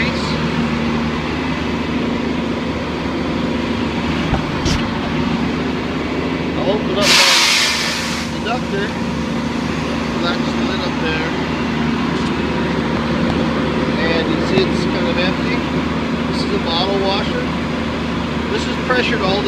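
Engine of a Rogator self-propelled sprayer raised to a slightly higher throttle, a steady close mechanical drone with a fan-like hum running throughout, plus a brief hissing burst partway through.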